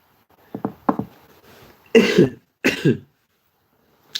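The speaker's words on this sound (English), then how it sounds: "Maybe you'll be hearing more of it, like me coughing." A person with the flu coughs in a short burst of two or three dry coughs, then gives two heavier, louder coughs close to the microphone, with quiet pauses in between.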